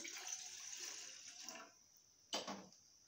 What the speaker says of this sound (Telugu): ఈ గ్లాస్తో మూడు గ్లాసులు వాటర్ పోసుకోవాలి